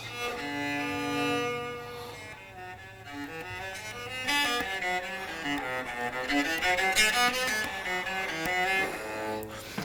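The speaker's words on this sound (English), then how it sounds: "change over to the electric cello, which is a Yamaha SVC 110, which was built in 2010." A Yamaha SVC 110 electric cello built in 2010, played dry without effects, gives a thin, bodiless string tone through a sustained melodic passage of bowed notes with shifting harmonics.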